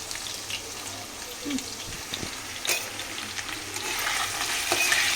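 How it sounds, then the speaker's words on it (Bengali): Potatoes frying in a pan, a continuous crackling sizzle that swells toward the end, with scattered clinks and scrapes of stirring and a voice now and then. "আলুটা লাল লাল করে ভেজে নিয়েছি"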